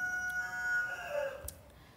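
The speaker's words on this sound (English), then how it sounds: "why are the chickens just making random noises?" Chickens making a brief burst of clucks and a short crow-like call, fairly faint, with no talking.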